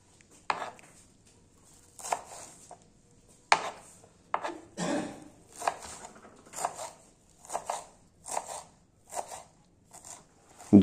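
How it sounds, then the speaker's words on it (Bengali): Coriander leaves are chopped with a knife on a board in short bursts of quick, crisp thuds, close and separated by brief pauses, with no talk. "এরই মাঝে আমরা ধনেপাতা ভালোভাবে কুচি করে নেব।"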